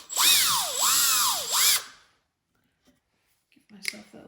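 A power drill bores a small pilot hole in woodworking joinery, its motor whining up and down in two quick surges before stopping, then silence and a short clatter of handling at the end.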